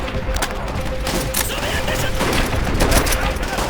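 A machine gun fires in rapid bursts in the World War II shooter game Call of Duty: World at War, loud dense rattling gunfire that continues throughout, with a player's voice talking over the shooting.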